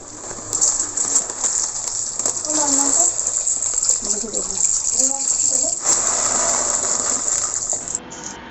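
Water pours steadily into a bowl of mixed lentils that include white kidney beans, set to soak overnight in a home kitchen. The gushing stream runs loud and close for most of the clip, with faint talk underneath before it stops near the end.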